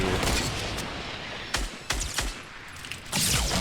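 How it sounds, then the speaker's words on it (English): Rockets fired in rapid succession during a Fortnite match, a dense barrage of sharp blasts and booms with a few louder distinct hits standing out against continuous gunfire. "This guy's just letting rockets rip."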